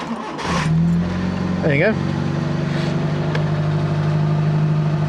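A car engine cranks briefly, catches and settles into a steady idle. A person speaks briefly over it.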